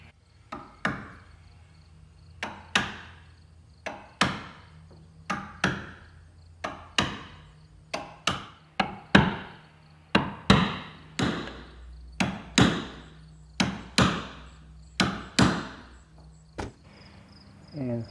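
A putty knife taps caulking strand into the stem seam of a wooden boat, a steady series of about twenty sharp knocks at a brisk, slightly uneven rhythm, close and fairly loud, with no talking.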